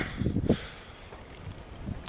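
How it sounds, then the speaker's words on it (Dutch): Gusty wind buffets a microphone outdoors, with low rumbling bursts near the start and softer rustling gusts afterward. "excuses nog een keer voor de wind"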